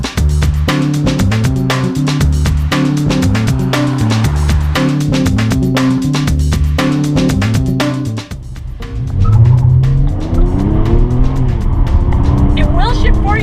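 A car engine revs hard and climbs through gears with a loud, close roar, then dips before a second surge where the pitch sweeps upward under excited talk.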